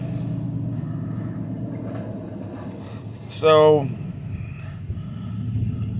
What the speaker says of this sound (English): There's a loud ass truck behind me.